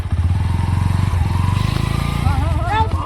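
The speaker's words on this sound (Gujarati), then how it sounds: "ખાલી બાઈક ચાલુ કરી આલો" A motorcycle engine runs close and loud with a fast, even pulsing putter, while voices talk over it toward the end.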